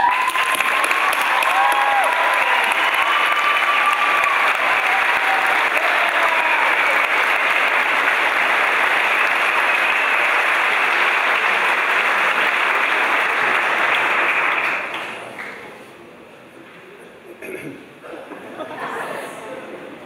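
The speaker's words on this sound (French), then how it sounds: "vous méritez une grande main d'applaudissements" Sustained loud applause from a graduation audience, a dense steady wash of clapping for about fifteen seconds before it abruptly dies down, followed by faint scattered noise and brief murmuring.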